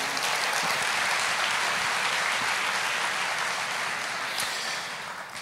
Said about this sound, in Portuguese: dá uma salva de palmas para você mesmo.